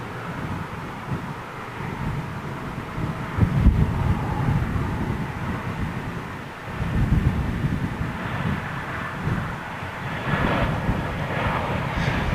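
Jet airliner approaching to land at Toulouse airport, a steady broad engine roar in the distance that rises and falls gently over several seconds, mixed with wind buffeting the microphone outdoors and no talk.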